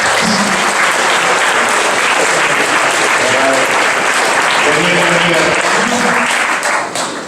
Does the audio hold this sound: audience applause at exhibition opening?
yes